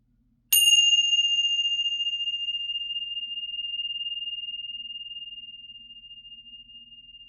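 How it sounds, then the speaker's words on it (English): A single bell is struck once to clear the energy, giving a clear, bright ping that rings alone and decays slowly over several seconds. "Let us clear the energy and ring the bells."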